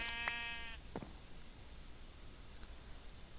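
A single sheep bleat in a blocky survival-building video game, one clear tonal bleat up close at the start, followed by a faint click and a quiet background hiss.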